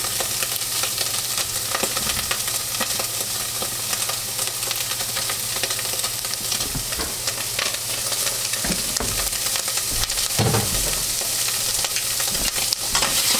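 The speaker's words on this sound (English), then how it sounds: "just a little oil so to keep that beef from sticking." Beef fries in a pan with a little oil, giving a steady, dense sizzle that runs unbroken throughout, with occasional scrapes and stirring knocks and no voices.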